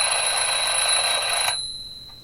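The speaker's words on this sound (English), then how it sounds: "the actual alarm clock" A shrill, rapid electronic alarm clock rings loudly for about a second and a half, then cuts off, leaving a faint lingering tone.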